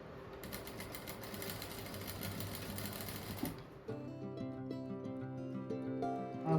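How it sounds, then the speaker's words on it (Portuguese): Sewing machine stitching bias binding around the edge of fabric for a flower-shaped bathroom set, a steady fast whirring run for about three and a half seconds, then stopping to a quieter ringing tail. "Agora eu vou costurar esse viés aqui em toda a volta, ó."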